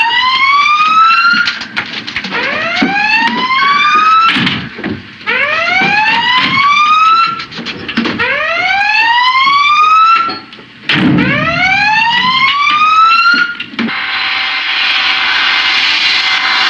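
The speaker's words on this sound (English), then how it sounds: "Sound collision alarm." On a submarine, a collision alarm sounds loudly and repeatedly, each blast a rising electronic whoop, five in a row over rumbling engine noise, ending in a burst of hiss.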